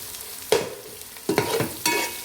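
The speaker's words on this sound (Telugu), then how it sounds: "అల్లం వెల్లుల్లి పేస్ట్ వేసిన తర్వాత ఊరికే కలుపుతూనే ఉండాలి అప్పుడే గిన్నెకు అంటుకోదన్నమాట" Ginger garlic paste is stirred and fried in a pan for chicken curry, with a soft sizzle broken by about four distinct scraping strokes of the spoon at uneven intervals.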